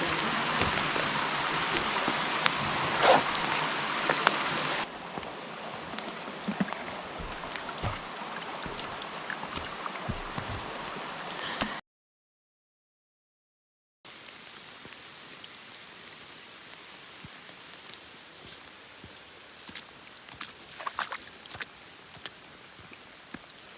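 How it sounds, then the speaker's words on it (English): Heavy rain pours down in a steady, dense hiss on a forest hiking trail along the Manistee River, Michigan, briefly cutting out before resuming with scattered heavier drops. "it's still raining. It is pouring out"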